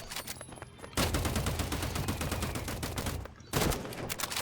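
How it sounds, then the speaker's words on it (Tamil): Gunfire in a shooting video game: dense bursts of rapid automatic shots, with a short pause before a second loud volley near the end, and no talk over it. "இது ஷூட்டிங் சவுண்டு கேட்குது"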